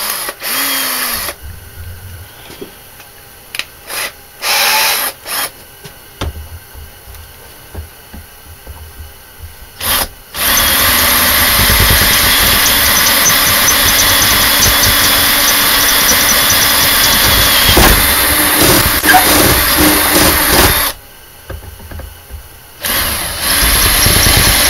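A power drill whines steadily for about ten seconds, loud and close, drilling pilot holes in diamond plate, after several shorter bursts, then stops briefly and starts again.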